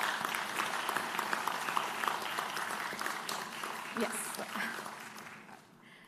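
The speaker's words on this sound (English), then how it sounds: "So I'd like to ask all of you to give the graduating batch a round of applause." An audience at a graduation ceremony applauds the graduating class, a broad wash of clapping that holds steady and then thins out near the end, with a brief spoken word in the mix.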